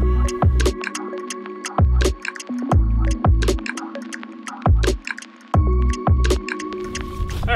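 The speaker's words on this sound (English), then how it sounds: "So I'm going to blow it up and we'll see how long it takes." A Klymit Static V Luxe sleeping mat is blown up by mouth: a series of about ten breaths pushed into the valve, each a close breathy rush with a soft throbbing hum, separated by short gaps.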